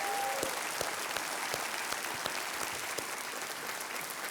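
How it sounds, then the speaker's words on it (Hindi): Steady audience applause rolls through a studio quiz show set, even and sustained, with a brief tone sounding at the start. "तालियों के साथ मैं चाहता हूं कि आप इनका अभिनंदन करें।"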